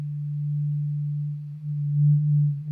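A pure, steady sine wave tone from Ableton's Wavetable synth, a single low sustained pitch holding for under three seconds with a slight swell near the end, heard alone.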